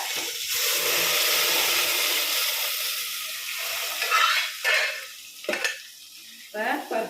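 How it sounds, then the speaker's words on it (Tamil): Cooked dal being stirred into bottle gourd sambar tempered with chillies and curry leaves, a broad loud hiss at first, then wet stirring scrapes and bubbling in short bursts, with no talking. "கொட்டியாச்சு நல்லா கிளறி விட்டுக்கணும்"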